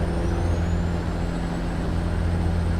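A Peterbilt 359 truck in American Truck Simulator downshifts, giving a steady, loud diesel engine drone with a faint rising whine and no voices.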